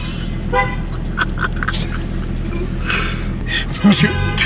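A car horn toots amid busy traffic noise and people talking nearby, with a short louder honk near the end.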